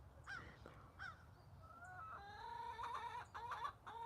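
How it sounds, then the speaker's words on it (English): Roosters crow inside a chicken coop, several drawn-out calls in different pitches following one another, with clucking hens around them, fairly close and loud, no speech. "Yeah, but I love to hear them crow."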